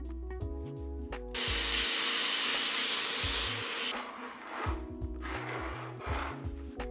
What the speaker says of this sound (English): use a 1-inch countersink bit and drill to a depth until the head of the screw was flush with the table